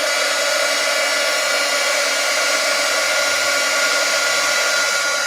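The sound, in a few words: heat gun blowing hot air to loosen glue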